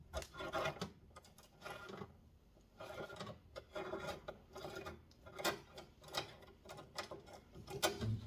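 Hand tool unscrewing the pump on a head spa unit, giving close, quiet scraping and rubbing with irregular ticking clicks and rasps, no talk over it.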